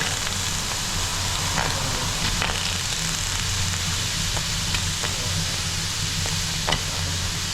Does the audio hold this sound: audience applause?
no